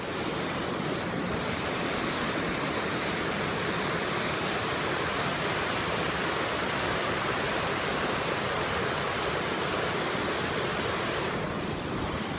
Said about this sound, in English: right now I am at what they call Little Niagara Falls